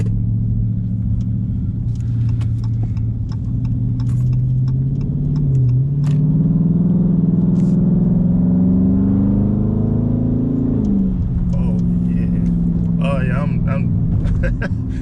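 A 2019 Dodge Charger R/T with its mid-muffler deleted rumbles loud and deep nearby, rising and falling as the engine revs, with a harsh, unmuffled growl and some voices in the background.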